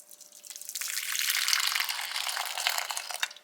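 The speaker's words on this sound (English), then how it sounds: "I'm going to add some hot water. This is just boiling. This is my teapot." Freshly boiled water pours from a teapot in one continuous splashing stream, building quickly and running steadily for a few seconds before tapering off, close by with no talking.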